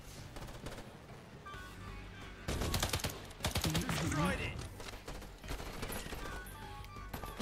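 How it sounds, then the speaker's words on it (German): Rapid automatic gunfire rattles in bursts in the co-op shooter video game Earthfall, loud and close, with quieter clicking and game noise around it and a voice talking at times. "Ja, wir schießen ein bisschen."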